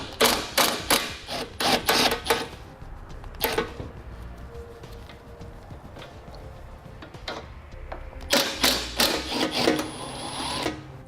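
A 10mm nut being loosened from an airbag sensor on a 2013 vehicle's core support, with clusters of quick ratcheting clicks near the start and end and a quieter stretch between, no talking.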